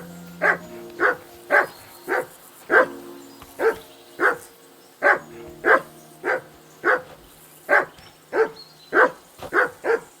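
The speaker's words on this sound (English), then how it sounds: "Call off that damn dog before he wolfs down the last of our mates" Dog barking in Kingdom Come Deliverance II, a steady run of about fifteen loud, evenly spaced woofs close by with no talk over them.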